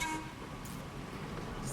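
A tram rolls through the streets of Saint Denis in Red Dead Redemption 2 on a haunted tram tour, a low, faint, steady rumble with a soft tonal hum and no voices.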